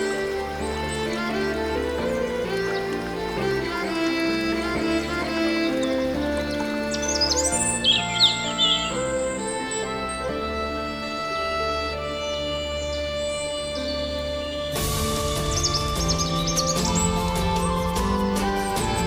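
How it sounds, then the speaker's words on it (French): Birdsong drifts through a forest at moderate loudness, with a few bright chirps standing out briefly, all layered over a steady, full musical backdrop that carries on throughout with no pause. "des oiseaux dont le chant est la mélodie même de la forêt"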